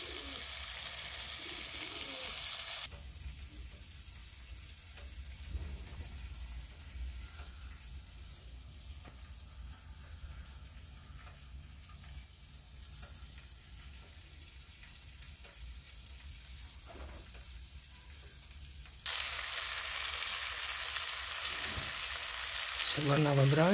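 Quail sizzling in melted butter in a pan, a steady frying hiss throughout, louder at the start and end with quieter stretches between, no talk heard.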